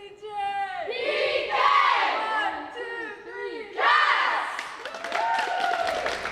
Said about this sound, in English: Now take us out with a cheer.